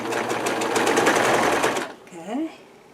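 A sewing machine runs steadily for nearly two seconds, rapid stitches buzzing close up as fabric for a fluffy throw pillow feeds through, then stops abruptly, leaving a brief soft voice-like murmur.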